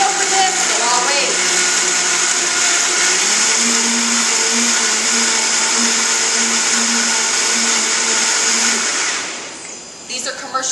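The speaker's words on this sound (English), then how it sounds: "They're meant for large, heavy-duty blending" A commercial heavy-duty blender grinds a frozen mocha with a loud, steady motor roar and a slight rattle, then winds down near the end as the motor stops.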